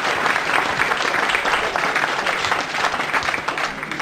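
A crowd at an outdoor zampogna bagpipe concert in Panni, Foggia, breaks into a continuous burst of applause, a thick and even clapping texture at moderate loudness that holds for several seconds.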